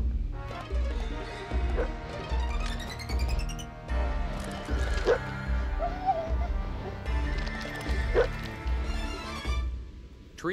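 A rambunctious black Labrador chases outdoors, with thudding paw beats, barks and excited vocal bursts rising over a steady rhythmic background.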